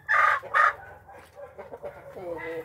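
Several chickens cluck and squawk loudly up close in two sharp bursts, followed by softer, varied clucking calls from the fowl caught for a cooking pot.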